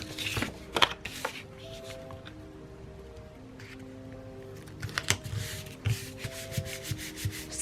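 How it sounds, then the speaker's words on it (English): Adhesive being rubbed onto a small piece of paper while covering staples on a Halloween-themed papercraft project, heard as soft scratchy rubbing and papery rustles with a few sharper taps, close and fairly quiet. "Apply some adhesive."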